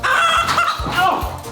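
Chickens cluck and squawk loudly and close by in a quick burst of repeated calls.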